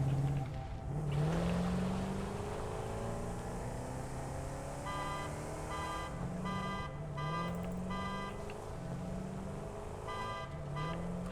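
Stolen car driven through the video game Satisfactory, a steady engine drone with rising pitch sweeps as it accelerates, joined by a repeating tonal beeping in the second half, loud and continuous with no talk.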